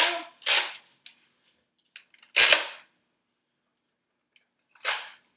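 Nerf toy guns firing during a backyard-style Nerf battle, with a handful of sharp, separated pops spread across the moment, one louder and nearer than the rest, in otherwise quiet surroundings.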